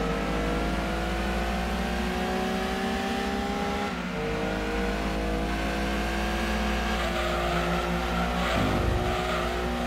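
Race car in Gran Turismo 2 on the PlayStation roars at full throttle, a loud continuous engine whine that climbs and drops sharply with each gear change, close and alone.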